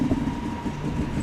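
A Northern train service rolls through Manchester Piccadilly station on the West Coast Main Line, a steady mid-level rumble with rail clatter and a faint tonal whine from close by, with no talk.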